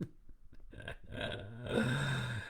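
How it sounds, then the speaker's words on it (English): A single drawn-out burp, low and rumbling, close to the mic, preceded by a few short breathy sounds. "I said I wasn't going to burp."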